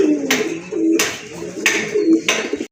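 Pigeons of a fancy breeding pair for sale coo in a series of low, throaty calls, with sharp bursts of wing flapping or rustling breaking in about every second, close by and fairly loud.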